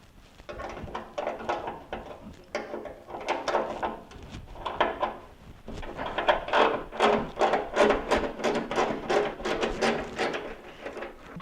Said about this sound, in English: So I'm going to loosen all those bolts, and when I'm done, we should be able to pull that grill right off.